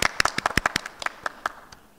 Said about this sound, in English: Let's give ourselves a clap.